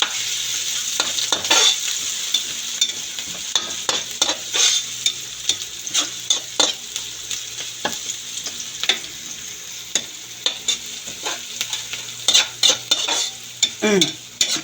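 Onions frying in oil for Filipino picadillo, with a steady close sizzle and repeated scraping strokes of a spatula stirring the pan, plus a few sharper clinks near the end.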